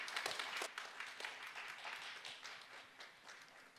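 A church congregation applauds together during a 2020 Christmas service, producing a dense, steady wash of many hands clapping that stays at an even level throughout, with no talking over it.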